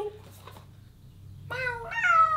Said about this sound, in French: Il miaule de temps en temps.